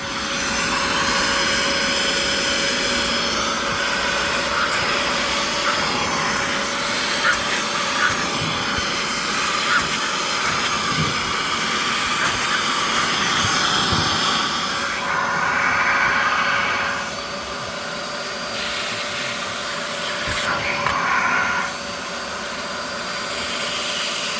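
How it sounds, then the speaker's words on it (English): An upholstery extractor cleaning a car seat during a full interior detail gives off a loud, continuous vacuum whine and roar, with slight shifts in pitch as the nozzle is passed over the fabric. "I'm gonna grab the extractor and we're gonna start extracting"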